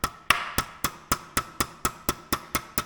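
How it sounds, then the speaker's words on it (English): Steady hammer blows, about eleven sharp strikes in quick even rhythm, close by and with no talking. "So all I did was just hammer them down."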